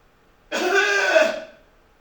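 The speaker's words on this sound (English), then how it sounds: "I want you to cough like you never coughed before." A single forceful cough from a person finishing the last of a set of squats, one rough burst lasting about a second, close and loud against silence.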